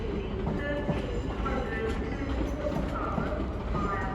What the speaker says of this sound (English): coming in is a terminating service from Basingstoke